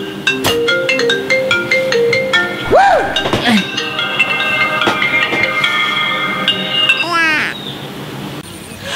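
A mobile phone ringtone plays a bright melodic tune of repeated tones while a call is placed, fairly loud and close, mixed with other busy background sounds and a sweeping electronic chirp near the end.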